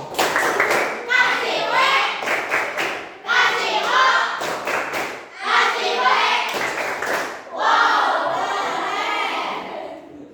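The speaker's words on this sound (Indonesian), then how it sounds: "Ini tepuk wow itu ya. Tepuk wow." Schoolchildren in a classroom perform the 'tepuk wow' clap routine in repeated bursts of rhythmic clapping and thumps, with a crowd of young voices chanting along between quick pauses.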